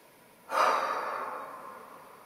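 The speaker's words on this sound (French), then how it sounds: "Vous autorisez à prendre quelques secondes pour faire 1, 2, 3, 4, 5 respirations profondes." A single deep breath drawn in sharply and let out slowly, close and quiet against a near-silent background.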